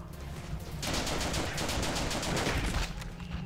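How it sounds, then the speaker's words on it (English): Rapid bursts of automatic gunfire from the shooter game The Legend of Alfur, including G36 and AK rifles, crackle loudly and almost continuously for several seconds over a steady background. "I think I was getting shot by Leon there."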